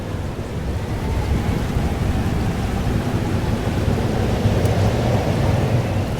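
Steady rain with low, rolling thunder in a stormy scene from the Life is Strange: Double Exposure video game, a constant dense wash that swells slightly toward the end, with no talking.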